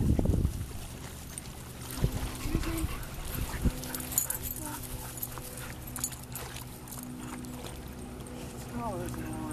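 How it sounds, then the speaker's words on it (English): A dog swimming in water, with splashing and paddling noises, some low whimpering and brief dog sounds, while people talk nearby throughout. "Oh look, Scarlet's swimming. Look at her go."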